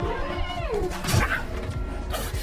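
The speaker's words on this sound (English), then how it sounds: "the cat that had been thrown out earlier suddenly returned" A cat in a movie scene lets out a loud, drawn-out meow that bends downward, followed by a heavy thud and further cat cries amid dramatic background sound.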